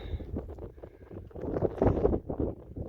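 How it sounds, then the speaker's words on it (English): Gusty wind buffeting the microphone in uneven bursts on a mountain along the John Muir Trail, rumbling and rising toward the middle before easing. "A little windy up here."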